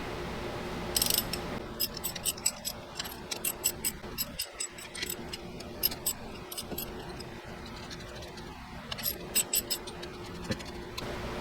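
A 24mm wrench ratchets clockwise on the big nut of an injector puller fitted to a BMW N55 engine, producing a close, fairly quiet run of quick metallic clicks in irregular bursts.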